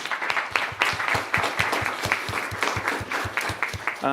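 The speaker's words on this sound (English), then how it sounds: "let's give them a round of applause for that" An audience applauds steadily, with dense clapping that holds at an even level throughout.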